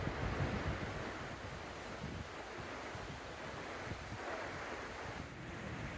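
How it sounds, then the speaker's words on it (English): The South Santiam River near Sweet Home flows in a steady, soft broadband rush, with faint wind noise and no voices. "The South Santiam River."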